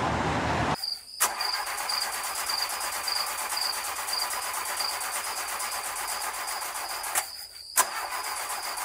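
A car engine failing to start, heard as a steady broadband whir with a high whine that cuts off twice, loud and close, with no one talking.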